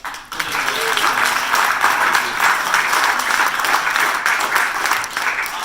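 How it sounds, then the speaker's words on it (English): An audience at a climate policy event gives loud, dense applause right after a short lead-in, sustained with slight swells throughout. "a big round of applause for SERA"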